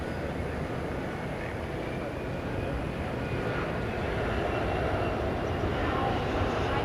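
A plane arriving at DFW Airport at night gives off a steady broad roar with a faint high whine, heard from a distance at moderate level, with no speech.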